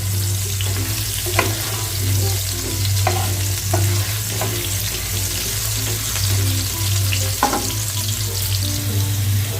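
Potatoes tossed with a little turmeric sizzle loudly in hot oil, a continuous frying hiss broken by repeated scraping stirs, with a low steady hum from the stove underneath and no voices.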